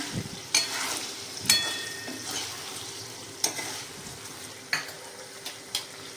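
Chicken sukka masala is stirred in a pan, with a few sharp spoon scrapes and clinks against the metal spaced across a soft, steady sizzle, close and fairly quiet.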